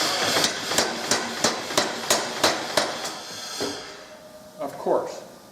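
Iron Kiss Octagon 150 power hammer in treadle mode striking hot metal: about eight loud, evenly spaced blows in a steady rhythm, then a few slower, scattered hits as the work ends.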